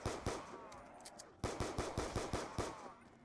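Pistol fire in a zombies shooter game on a farm map: a quick, steady string of loud, close shots with one short pause partway, each crack sharply defined.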